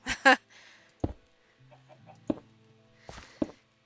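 Sparse, sharp chicken clucks at close range in Minecraft with short gaps between them, plus a low synthetic hum, like game sound effects.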